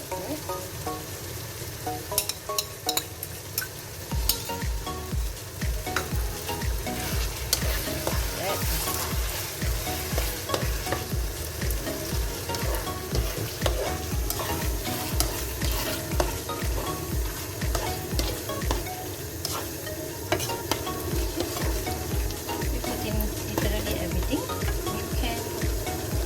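Mutton sizzles and fries steadily in a pan while being stirred, with a scraping utensil rhythm repeating throughout and brief, faint background speech.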